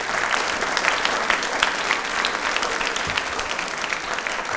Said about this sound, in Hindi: बड़े तालियां जोरदार हो जाए इनके लिए।